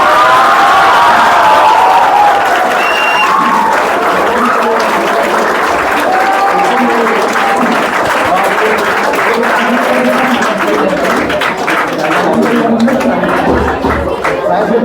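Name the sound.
audience applause and cheering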